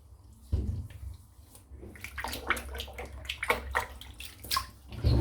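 Water runs and splashes into a basin during a shave, with uneven bursts of flow and gurgling close by.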